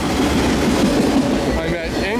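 An eastbound CN mixed freight train with auto racks rolls past near the Via station in Ingersoll, Ontario, loud and close with a steady rumble and clatter of wheels, and a faint squeal toward the end.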